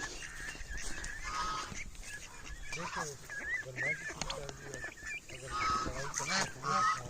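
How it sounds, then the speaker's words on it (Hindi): Ducks in a bird enclosure, newly added birds attacking younger ones, with repeated honking calls near and far over rustling and movement. "जो अभी नई डक्स लाए हुए हैं इन्होंने आते ही यहाँ पे इन छोटी डक्स को मारना शुरू कर दिए"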